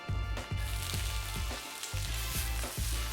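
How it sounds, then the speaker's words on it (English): Greens sizzle and fry in an oiled pan with olive oil, a steady bright crackle broken by repeated soft clanks and scrapes as they are stirred or tossed, close and fairly quiet. "they can go straight into an oiled pan, a little bit of olive oil, in with our greens"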